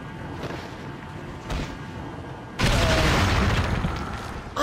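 A bomb explodes in the Resident Evil 4 video game. A sudden loud blast breaks a quieter stretch of game ambience that holds a smaller thump, then rumbles on and slowly fades.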